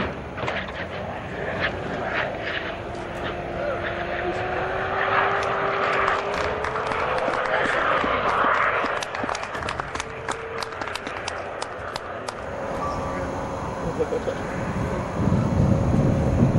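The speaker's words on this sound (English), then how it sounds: "Beechcraft 1900, aircraft performed an impressive belly landing with 17 people on board." Beechcraft 1900 twin-turboprop airliner making an emergency belly landing, a steady engine drone with a sliding tone and scattered sharp clicks and scrapes, filling the scene continuously at moderate loudness.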